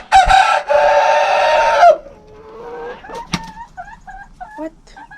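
A backyard rooster lets out a loud, drawn-out crow close by, followed by a run of softer, choppy clucks and short calls from the chickens.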